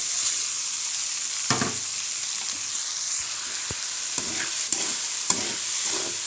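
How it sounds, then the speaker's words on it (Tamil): Leftover rice soaked with tamarind is turned over with softened fried onions in a hot pan, soft frying hiss broken by several distinct spoon scrapes and knocks against the metal. "இப்போ புளி ஊற்றி வச்சுருந்த சாப்பாட்டை போட்டு பெரட்டலாம்"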